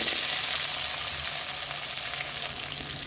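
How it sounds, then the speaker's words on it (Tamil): Small shallot onions fry in hot oil with cumin and broken red chillies for sambar, producing a steady, dense sizzle that stays close and even with no voices. "சின்ன வெங்காயம் சேர்த்துக்கலாம்."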